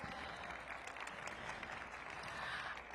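A crowd applauding at a city government event hosted by the mayor, a steady wash of clapping at moderate distance with faint voices beneath.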